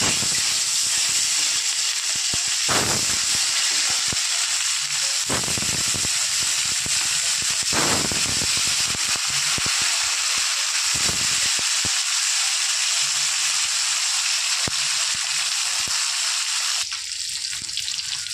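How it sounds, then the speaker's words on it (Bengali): Snakehead fish frying in hot oil, a loud, steady hiss and sizzle with crackling bursts that runs the whole length with no talking. "তেল ভালো মতো গরম হয়ে গেছে, এবার এক এক করে মাছগুলো ছেড়ে দেবো।"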